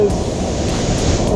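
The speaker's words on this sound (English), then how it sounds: "The power in that waterfall is just incredible." Powerful waterfall at the Cueva del Esplendor cave near Jardín pours down in a steady, loud, broadband roar close by, continuous with no breaks.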